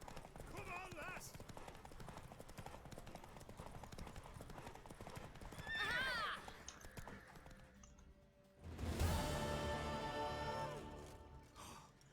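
A horse's hooves clip-clop steadily in the video game The Witcher 3, a continuous rhythmic trot under game sounds, with a louder burst of noise late in the clip.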